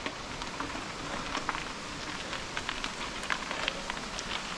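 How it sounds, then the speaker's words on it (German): Steady rain falling outdoors on a mountain bike tour, a dense even patter with scattered brighter drops throughout, fairly close and continuous with no talking. "Und ein bisschen Regen tut mir auch nicht weh."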